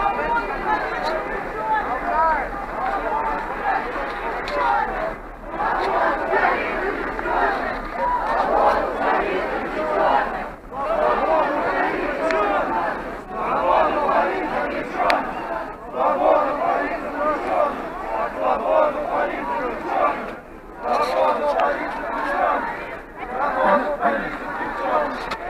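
A large protest crowd in a city street in Samara, dense overlapping chatter and occasional shouts from many people, steady and loud throughout with brief dips, the babble surrounding the listener closely.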